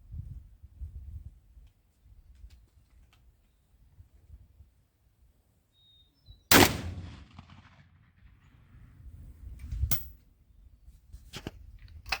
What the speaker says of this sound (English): next on the list, we got the Stevens single shot 16 gauge.